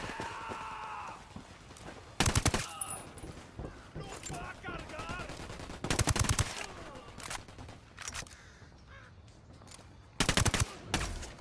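Bursts of automatic gunfire in Ghost Recon Wildlands, several sharp loud volleys spaced a few seconds apart, with voices talking between them.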